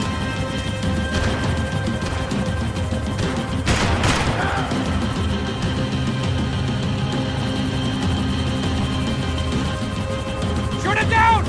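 Gunfire and crashing impacts from the video game Max Payne 3, loud bursts and a sharp smash around the middle, with shouted voices and game sounds running throughout.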